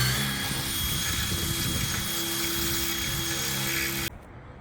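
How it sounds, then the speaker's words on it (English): A steady, high-pitched whine of a power drill boring rivet holes on a narrowboat runs continuously for about four seconds, then cuts off, leaving quieter background hum. "make sure you've got the right drill bit for your rivets you're using."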